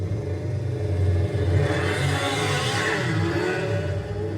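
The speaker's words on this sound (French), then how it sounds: "il démarre la moto au salon" Motorcycle engine started up indoors at a show, a steady close rumble with uneven revving that swells midway and then settles, continuing for the whole stretch with no voices over it.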